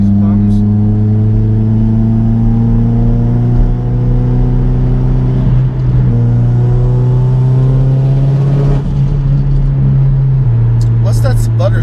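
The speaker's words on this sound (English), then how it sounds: "I believe that's the open wastegate that's making the sound" A turbocharged Mitsubishi Evo X with an open-dump wastegate runs at high revs, its engine note droning close inside the car with stepped pitch shifts as it pulls, a faint sputter under the engine, and people talking over it.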